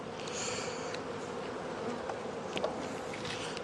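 Honey bees hum in a steady, dense drone inside an open beehive, close and continuous, with a few faint clicks of frames being handled.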